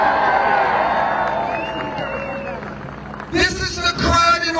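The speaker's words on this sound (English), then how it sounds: "This is the crowd in Albany" Crowd at an outdoor political rally in Albany, New York: a steady murmur of many voices gives way to bursts of cheering and clapping near the end, loud and close.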